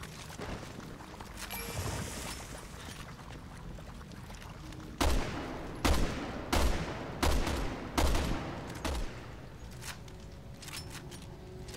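Gunfire aimed at a big enemy in the video game Resident Evil 6: about six loud, evenly spaced shots ring out in quick succession over a low rumbling game backdrop, with a few fainter pops after.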